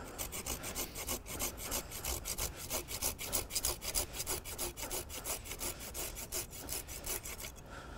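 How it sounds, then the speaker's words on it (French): A hand pruning saw cuts through a thick ornamental shrub branch in steady back-and-forth strokes, a close, continuous rasping with regular rhythmic pulses and no talking. "Dans ces cas-là, je change d'outil, je prends ma scie"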